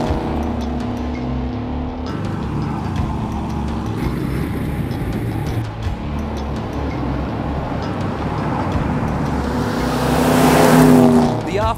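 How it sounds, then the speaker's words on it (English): Several famous Ford Falcon GTHO muscle cars rumble past in a continuous loud engine drone, building to a nearer, louder pass near the end, with crowd chatter in the background. "You can't help feeling nostalgic when the famous GTHOs come rumbling by."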